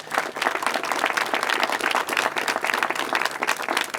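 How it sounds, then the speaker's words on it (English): A crowd at the reopening of the renovated Botanical Building in Balboa Park gives city employees a round of applause, a brisk and fairly close burst of many hands clapping that lasts a few seconds. "Can we get a round of applause for all of our city employees?"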